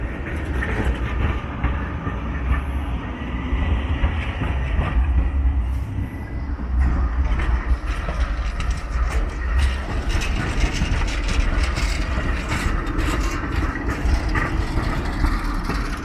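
An Oslo tram rolls past on city rails in the evening, a steady loud rumble with clattering wheel noise running the whole time and no talk.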